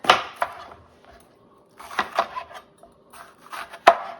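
A knife slices through an orange bell pepper on a cutting board, giving a few sharp, separate cutting knocks with quiet gaps between them, close and clear with no talking.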